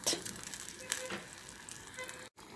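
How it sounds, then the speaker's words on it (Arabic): A mixture for tuna pizza sauce fries in a pan, giving a soft, close sizzle with a few stirring scrapes, faint and brief. "نخليها تقلى شويه"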